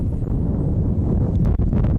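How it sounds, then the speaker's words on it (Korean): Wind sweeps across the open winter sea in steady, roaring gusts, buffeting loudly with low rushing noise and occasional sharper bursts, no voices present. "사방이 뚫려 바람 한 점 피할 곳 없는 겨울바다"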